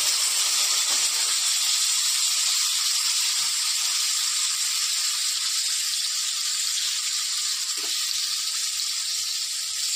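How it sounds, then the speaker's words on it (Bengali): Potatoes frying in hot oil for a vegetable dish with peas, a steady loud sizzle and hiss that carries on throughout without any talking. "তাই এখন আমি আলুগুলোকে আগে প্রথমে ভেজে নেব।"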